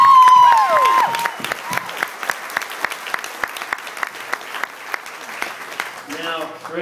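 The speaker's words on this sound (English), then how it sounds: "So if we can start off with maybe a round of applause." Applause and cheering from a wedding audience during a best man's speech, opening with a loud whoop and sustained clapping that thins into scattered claps, with voices and a brief shout at the end.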